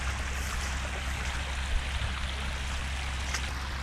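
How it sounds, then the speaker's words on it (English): Water streaming out of an abandoned RV on a hillside, a steady close rushing trickle with a constant low rumble and no voices. "Can't believe the amount of water that comes out of this place"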